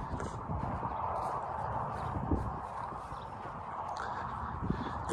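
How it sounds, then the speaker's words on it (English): Horses walk near a farm shed, their hooves clopping in a faint, uneven rhythm against a soft background hum. "And the horses don't know what to think."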